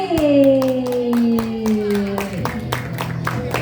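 Applause at a school academic awards announcement, scattered hand claps in a hall over a sustained tone that slides downward, with a distinct clap burst near the start and more claps continuing.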